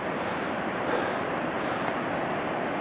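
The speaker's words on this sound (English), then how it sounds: "Hear the sound of all those waterfalls and the water coming down." Rushing water from waterfalls in Glacier National Park makes a steady, broad hiss, distant and unbroken, with no voices over it.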